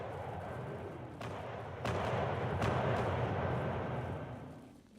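Napoleonic-era artillery bombardment in Combat Directive: Napoleonic Wars, a rumbling barrage with a few distinct cannon booms layered over a continuous low roar that swells midway and fades toward the end.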